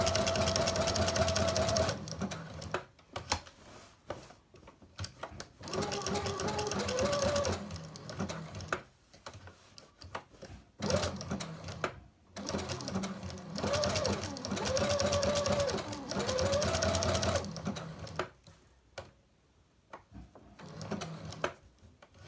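Sewing machine stitching an appliqué shape cut from fabric backed with bondaweb, a steady close whirring hum running in stretches with brief pauses as the fabric is turned, a voice heard faintly over it.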